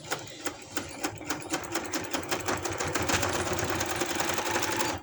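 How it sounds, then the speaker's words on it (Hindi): A sewing machine stitching palazzo pants runs in a steady, rapid, close clatter of needle strokes that speeds up slightly and continues evenly throughout. "इसको हम सीधा करते जाएंगे और सिलाई लगाते जाएंगे।"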